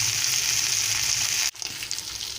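Fish frying in a pan gives a steady, loud sizzle that cuts out abruptly halfway, then returns softer and more uneven.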